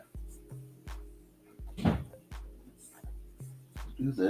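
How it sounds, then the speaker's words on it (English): A door knocking repeatedly in gusting wind, about ten low, hollow bangs at a steady, uneven pace with faint rattles between, heard from indoors with a brief voice-like burst partway through. "the wind's kicking up. I can hear my door going"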